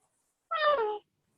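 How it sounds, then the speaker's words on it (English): A single short yawn with a rising-then-falling tonal whine that sounds much like a cat's meow, close and clear against silence, lasting about half a second. "That was a yawn."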